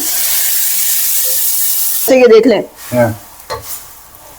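Hot water poured onto sizzling hot pot spices, garlic, masala and bay leaf gives a loud, steady hiss for about two seconds, then a voice speaks while softer bubbling continues.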